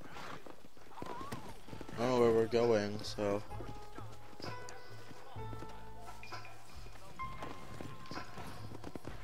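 Horse hooves clip-clop at a walk and trot in Red Dead Redemption, a steady rhythmic patter under game music, with a voice talking over it.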